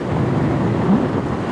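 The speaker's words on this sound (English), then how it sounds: "It's windy today, and it's going to be even more tomorrow." Strong wind buffeting the microphone aboard a sailboat, a continuous loud low roar with a brief gust swelling near the end.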